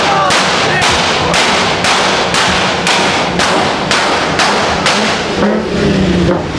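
A rapid string of loud, sharp bangs repeats about every half second, a car exhaust backfiring like gunshots echoing in an enclosed space at a car meet, with a low engine rumble beneath.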